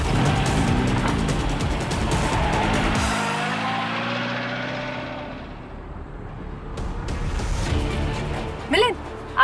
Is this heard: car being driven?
yes